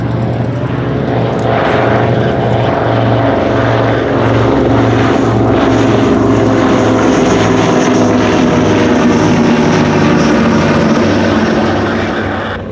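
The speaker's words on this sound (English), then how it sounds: "So, in from the right, the Havilland DH89A Dragon Rapide and the Avro 19 Anson." A de Havilland DH89A Dragon Rapide with twin 200 horsepower Gipsy Six engines and an Avro 19 Anson fly past at an airshow, their propeller engines droning loud and continuous throughout with a throbbing, layered tone.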